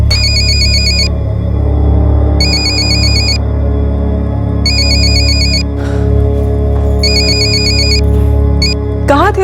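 An electronic phone ringtone trills in regular bursts over a loud, steady background hum, repeating four times with short gaps.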